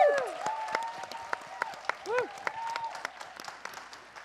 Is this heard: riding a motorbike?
no